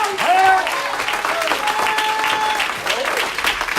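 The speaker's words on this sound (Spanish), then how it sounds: "Dale gloria a Dios y fuerte se aplaude." Congregation clapping loudly during a church service, steady and dense, with shouts and voices ringing out over the applause.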